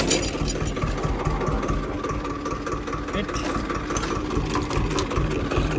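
A tractor engine labouring under heavy load while working a hard field, a loud continuous rumbling drone with rapid rhythmic pulsing, steady throughout.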